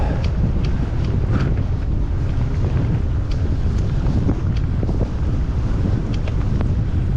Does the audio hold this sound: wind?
yes